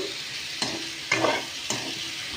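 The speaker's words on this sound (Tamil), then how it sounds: "அந்த மசாலா செஞ்ச எண்ணெயிலேயே என்ன செய்யணும், இதெல்லாம் வெட்டி வைத்த எல்லாத்தையும் போட்டு உப்பும் போட்டு" Chopped vegetables and salt frying in spiced oil as the base for a curry gravy, with a steady close sizzle and a few louder stirring scrapes in the pan, and no talking.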